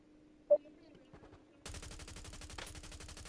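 Call of Duty gunfire, rapid automatic bursts erupting loud and sustained after a quieter opening with a brief sharp shot and faint game sounds, a voice briefly underneath.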